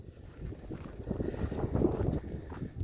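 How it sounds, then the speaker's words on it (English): Strong wind gusts on an overcast, cold day roar against the microphone in a low, buffeting rumble that swells and eases unevenly, loud and close, with no voices. "The sustained breeze is probably 5 to 7 miles an hour, but these gusts are 30, 35,"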